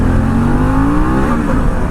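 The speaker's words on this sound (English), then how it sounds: "the exhaust sounds really good when you get on it" A 2021 Harley-Davidson Pan America motorcycle exhaust roars loudly under hard acceleration, its pitch climbing steadily before a brief dip, up close with no voices.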